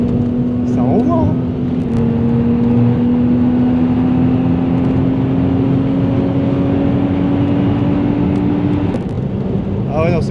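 A 1994 Audi coupé engine revs with a steady, loud droning tone that climbs slowly in pitch for several seconds, then drops back.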